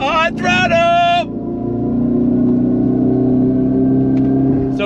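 A 2025 Dodge Charger Daytona Scat Pack pulling hard on throttle gives a loud, smooth, rising tonal drone that builds steadily from inside the cabin, with a brief voice at the start.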